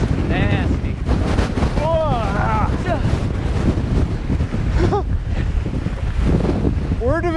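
Strong gusting wind buffets the microphone on a mountain bike trail in Palm Canyon, roaring steadily and close throughout while a rider talks and exclaims over it.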